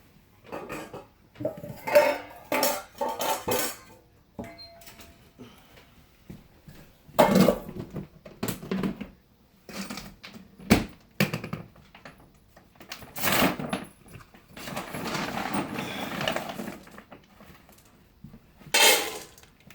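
Dishes, pots and cutlery clink and clatter in repeated bursts while food is prepared for a dog, the knocks fairly close and uneven with short pauses between them.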